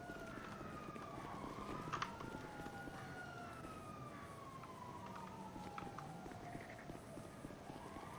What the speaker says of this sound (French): C'est des sirènes quoi que ça? j'entends là.